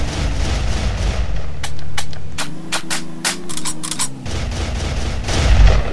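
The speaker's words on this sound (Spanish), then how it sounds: "escucho disparos" Rapid gunfire from a shark-hunting video game sounds as a burst of sharp, closely spaced shots over a droning, rumbling background, loud and near, with no speech over it.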